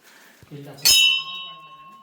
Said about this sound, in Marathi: घंटा वाजवूया पहिला मित्रांनो